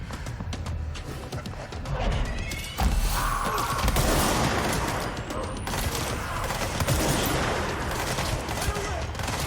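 Gunfire in the action game Control crackles in a dense, continuous barrage over busy game noise, growing heavier partway through, with occasional voice sounds beneath.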